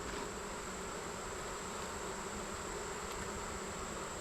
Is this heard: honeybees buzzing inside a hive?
yes